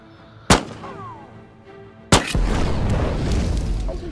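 Attacking Russians' gunfire in the VR game Wanderer, two loud separate booming shots followed by a sustained rumbling roar of combat noise.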